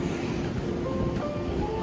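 Strong wind gusting through a snowy New York City street during a snowstorm, a constant loud rushing roar buffeting the microphone for the whole short moment, with no other distinct sounds.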